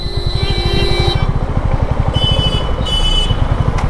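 A 2021 Royal Enfield Classic 350 motorcycle idles at a traffic signal, its single-cylinder engine thumping in a steady, close, even rhythm that stays loud throughout with some street noise around it.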